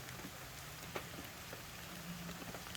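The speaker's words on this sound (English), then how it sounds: "we're in the middle of the graveyard, and it's raining" Rain falls in a graveyard as a steady, dense hiss with scattered drops, continuous and fairly quiet throughout, with no talking.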